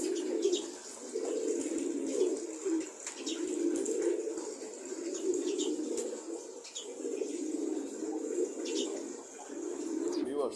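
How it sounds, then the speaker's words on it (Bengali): Pet female pigeons gathered and feeding together, a continuous low cooing and burbling from several birds close by, with faint pecking clicks and small rustles scattered throughout. "দেখেন মাদি কবুতরগুলো একসাথে খাচ্ছে"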